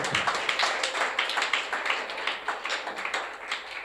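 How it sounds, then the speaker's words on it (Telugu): A church congregation claps hard together at a preacher's urging, a dense, fast, continuous patter of many hands filling the room for several seconds. "చప్పట్లు గట్టి కొట్టేయండి ఒకసారి, గట్టిగా, బాగా గట్టిగా."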